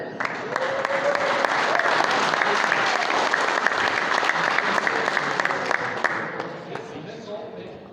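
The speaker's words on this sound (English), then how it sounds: "give him a round of applause for Corey Glassford." Crowd applause at a short-track race for a Lucky 7 Stock Car Division driver in car number 86, a dense, sustained burst of clapping with occasional sharper claps and faint cheers that slowly tapers off over eight seconds.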